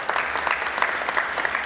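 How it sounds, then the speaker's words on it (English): Sustained applause from a conference audience at Google I/O 2016, dense steady clapping filling the room at an even level for its whole length with no talk over it. "Round of applause for getting real."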